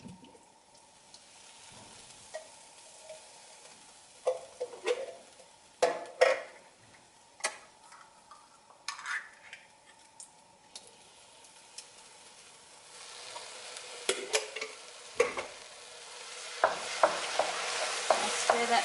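Two tins of diced tomatoes being stirred through red lentil dhal in a pot, with wet spoon scrapes and knocks against the pot at an uneven pace over a faint hiss that builds toward the end; no voices.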